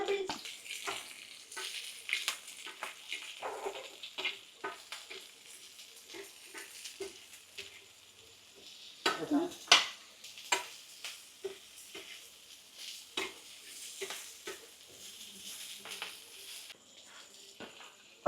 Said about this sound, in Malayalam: അപ്പം നമ്മുടെ വെജിറ്റബിൾസ് സോട്ട് ചെയ്യാം.